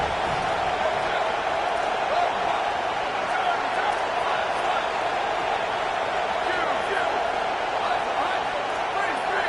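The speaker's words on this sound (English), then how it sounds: "The Tide crowd rolling noise down onto Saban Field on third down." A dense, continuous crowd roar fills the space, steady and loud throughout with no breaks, like a packed stadium cheering, in a college football video game at Alabama's Saban Field on third down.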